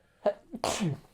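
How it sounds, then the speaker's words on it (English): A single close, loud sneeze with a sharp inhaled buildup followed by a forceful burst, from a person sitting at a table. "3 sneezes, mate."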